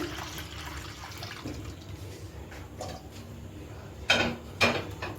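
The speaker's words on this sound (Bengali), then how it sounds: "এখন আমি দুধটাকে টক দই আর আমের পিউরির মিশ্রণটার মধ্যে ঢেলে দিচ্ছি।" Milk poured into a mixture of sour yogurt and mango puree for homemade mango curd (aam doi) gives a soft, steady pouring hiss, then two brief, louder splashes near the end.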